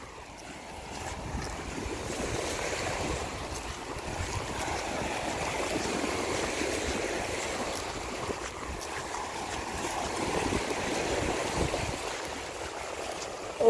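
Tidal water washes steadily across a sandbar where two tides meet, a continuous broad rush of surf and current with a light wind layered through it, no voices.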